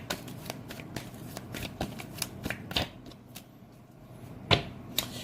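Tarot cards are shuffled by hand in rapid riffling flicks and slaps, close and fairly soft, ending with a couple of sharper card taps.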